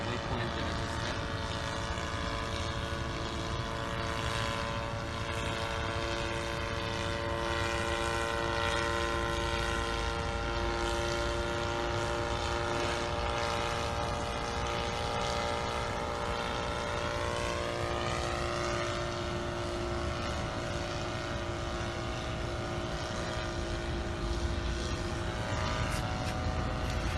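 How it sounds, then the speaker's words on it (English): An SK1000 UAV helicopter flies itself on autopilot toward a set waypoint, giving a steady, loud rotor and engine drone with a sustained tonal whine that shifts pitch partway through, continuous with no talk. "So the helicopter will automatically fly to the waypoint that I just set."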